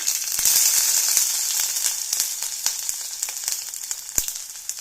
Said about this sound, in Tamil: அஞ்சு பல் பூண்டு அதுவும் நச்சு தான் போட்டிருக்கேன் நல்லா வதங்கட்டும்